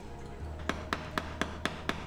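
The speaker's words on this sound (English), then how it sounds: "hammering down on the dowel pins, like around the flange area" Six evenly spaced metallic hammer taps on transmission dowel pins around the flange of a Nissan B13 six-speed conversion ring out close by over a low steady hum, each strike sharp and short.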